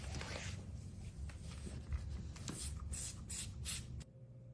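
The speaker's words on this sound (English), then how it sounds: "We are going to spray it and let it sit for 10 minutes per the instructions." Faint, quick bursts of a spray bottle spraying enzyme stain and odor cleaner hiss in a short series, mixed with soft rustling and handling noises.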